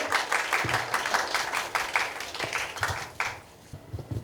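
An audience at an AI and media literacy lecture claps to welcome a speaker to the stage, a brisk round of applause that fades out within a few seconds.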